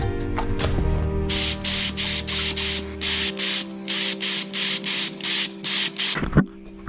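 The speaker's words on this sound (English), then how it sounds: "I've got this spraying quite a heavy flow of paint." A spray gun pushes out a heavy flow of black motorcycle paint in a home setup, with a loud hissing burst that comes in regular pulses as the trigger is pulled and released, close to the listener.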